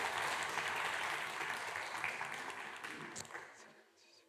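A church congregation at a Sunday worship service applauds after a baptism, a soft, dense patter of clapping that gradually thins out and fades.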